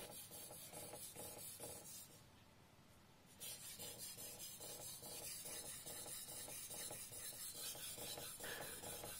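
A Teruyasu Fujiwara Maboroshi Shirogami #1 gyuto blade is sharpened on a stone, giving a steady, close rasping scrape in repeated strokes with a regular back-and-forth rhythm, briefly pausing before resuming.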